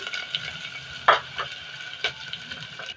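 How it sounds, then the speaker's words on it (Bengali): Sliced onion and green chili sizzling in hot oil in a frying pan, a soft, steady crackle close by with a few sharper spits and stirring scrapes. "ফ্রাই প্যানে তেলটা দিয়ে পেঁয়াজের কাঁচা লঙ্কাটা প্রথমে দিয়ে দিচ্ছি।"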